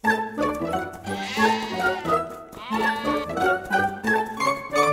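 Sheep bleating by a pond, several animals calling in overlapping, wavering cries one after another, loud and close with no pauses.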